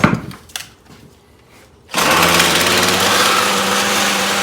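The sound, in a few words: Ryobi string trimmer engine running after shaft repair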